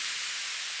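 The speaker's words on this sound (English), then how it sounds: "we just have an exhaust hit that I added" A short burst of bright, airy hiss, the exhaust hit ear-candy effect used in music production, sounding alone and fairly steady for under a second.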